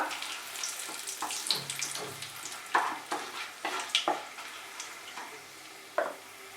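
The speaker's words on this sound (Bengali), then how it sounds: "এটাকে ফ্রাই করব আমি 15 থেকে 20 সেকেন্ড।" Whole cinnamon, cloves, cardamom, black pepper and two bay leaves fry in oil for a Bengali mutton kosha, giving a soft steady crackle with scattered scraping stirs and clinks, fairly quiet and close, with no talking.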